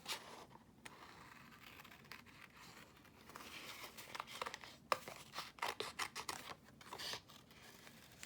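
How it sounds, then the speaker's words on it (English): Crisp snipping and paper crinkling, a run of short irregular cuts growing busier toward the end, fairly quiet and close. "I think I'm just gonna kind of fussy cut this out."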